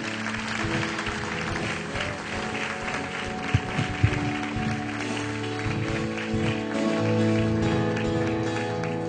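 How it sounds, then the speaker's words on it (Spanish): A church congregation gives a sustained round of applause, many hands clapping together at a steady level over a continuous hum of music. "Dele un fuerte aplauso al que reina."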